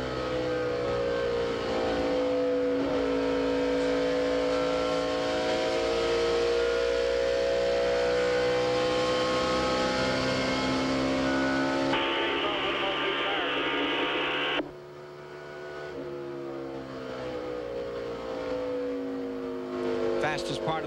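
Dale Earnhardt Jr.'s NASCAR race car engine at the 1998 Motegi 500 in Japan roars steadily through a corner, a sustained loud drone that shifts pitch and drops back partway through, with broadcast commentary talking over it.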